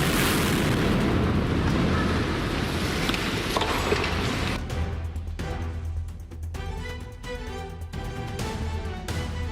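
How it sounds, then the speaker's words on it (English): Controlled demolition of an old structure built in 1984 by German engineers, a loud rumbling blast that roars and then tapers into fainter crackling debris and rumble. "Here is a precise demonstration by German engineers while deconstructing an old structure built"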